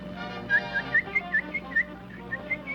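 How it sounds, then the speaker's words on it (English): A cartoon bird whistles Yankee Doodle, a run of short, bright, clear whistled notes in quick rhythm over quiet background music. "It sounds like somebody whistling Yankee Doodle."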